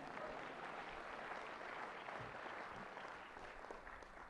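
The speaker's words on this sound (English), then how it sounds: "You can applause." Convocation audience applauding a Bachelor of Business Administration graduate at a 2012 ceremony, continuous dense clapping from a large crowd, steady and somewhat distant, fading slightly at the end.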